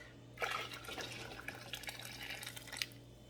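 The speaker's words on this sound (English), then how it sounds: "I'm gonna have to add some hot water from this pot over here" Hot water poured from a pot over canning jars sitting in a canning pot while making pickles at home, a close splashing, gurgling stream that runs for about two and a half seconds before stopping.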